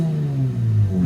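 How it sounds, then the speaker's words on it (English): A Nissan 350Z with a brand-new clutch and throwout bearing and a tinny, free-revving exhaust gets a quick rev, the engine tone rising and falling in one short burst. "I'll do a little quick rev in here"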